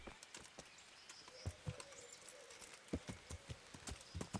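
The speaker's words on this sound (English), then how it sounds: "Horse!" Horse hooves clip-clopping in the medieval game Kingdom Come Deliverance, a run of soft, uneven thuds at moderate distance over a quiet ambient bed, with no talking.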